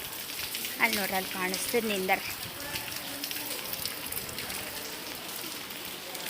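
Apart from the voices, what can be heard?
light rain falling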